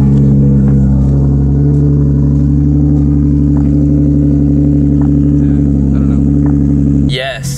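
A Nissan 370Z idles at night after a cold start, a loud, steady low rumble with a faint uneven lope that holds throughout before a brief disturbance near the end.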